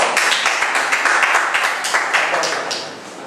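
Applause from an audience welcoming a speaker at a talk event in Kaohsiung, a lively burst of individual claps audible as distinct sharp hits, fairly close and loud, thinning out toward the end.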